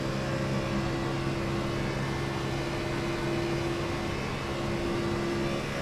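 Xfinity stock car from the iRacing racing game at Las Vegas under throttle: a constant, loud engine drone with a broadband rushing roar and steady tonal hum, unbroken for several seconds, no talk.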